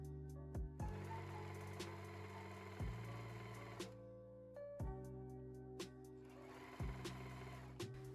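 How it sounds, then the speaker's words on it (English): An overlock sewing machine stitches a blouse sleeve seam in drapey satin, running in short bursts with a steady whirring hum, pauses and sharp clicks between runs, quiet and close. "we need to clean it up by trimming off the fraying threads and then overlock it with 1 smooth running stitch"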